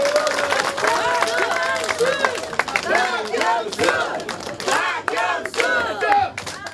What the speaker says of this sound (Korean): 다시 한번 큰 박수로 모시겠습니다